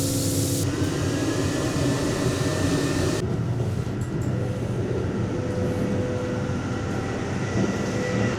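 A hand dryer in an Amtrak Acela train restroom blows with a loud, steady roar for about three seconds and then cuts off, leaving the continuous rumble of the moving train.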